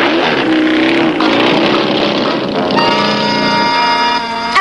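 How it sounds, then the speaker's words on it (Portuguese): A motorbike in an animated cartoon episode revs loudly and pulls away, its engine note rising and holding as it drives off close by, with no talk over it. "E desta vez eu vou dirigir esta moto."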